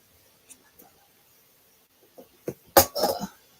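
A single sharp sneeze rings out near the end after a few faint clicks and rustles in an otherwise quiet room, followed by a brief muffled voice.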